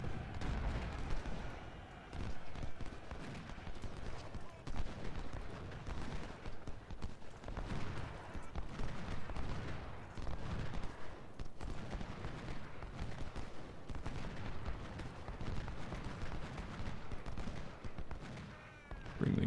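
Dense gunfire and artillery rumble from the Battle of Fredericksburg in Ultimate General: Civil War, a continuous muffled barrage of overlapping musket volleys and cannon booms at a steady low level.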